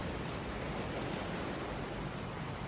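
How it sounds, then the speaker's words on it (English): Continuous hiss of ocean waves, an even, unbroken wash of surf with no distinct breaks, moderately loud throughout. "That's the ocean. Sound of the ocean."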